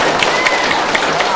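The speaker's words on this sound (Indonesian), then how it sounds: "tepuk tangan buat Ketua Pansus" Clapping from an audience at a special committee visit in a village, dense and loud for a brief moment, with a voice faintly mixed in among the hands.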